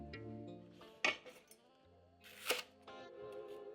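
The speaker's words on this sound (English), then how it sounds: "Cut the pepper in half. Take out all the seeds and the membrane." A knife cuts red and green bell peppers in half on a board and the seeds are scraped out, giving two sharp, close taps about a second and a half apart over soft background music.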